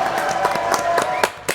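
Studio audience on a French TV show applauding a guest, dense clapping throughout with sharper bursts near the end.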